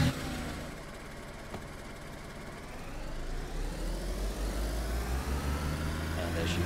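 A vehicle engine in DayZ idles and then rises in pitch as it revs, running continuously and fairly loud at close range.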